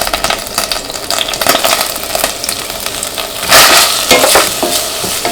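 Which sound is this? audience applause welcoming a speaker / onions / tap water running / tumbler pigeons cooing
onions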